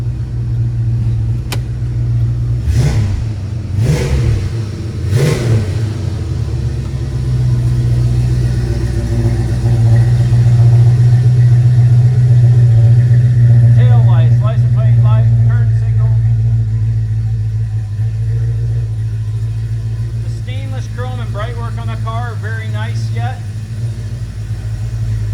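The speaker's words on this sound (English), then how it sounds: "Car sounds great." A 1974 Dodge Charger SE with a 440 V8 runs steadily at a close idle, a low continuous engine drone throughout, with a brief rev near the start and people talking over it.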